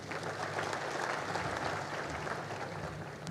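An audience applauding after the Holy Father's message at a church plenary gathering, a dense, even wash of many hands clapping throughout, fairly distant and steady.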